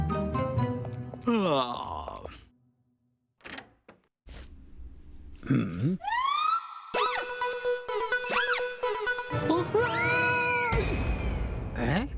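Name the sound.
cats meowing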